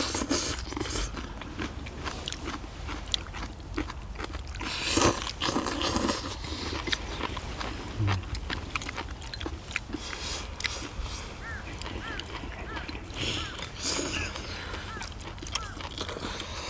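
Someone chewing steamed monkfish with bean sprouts and water parsley, close-up wet crunching and bites recurring irregularly over faint background noise.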